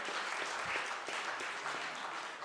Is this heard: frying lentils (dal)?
no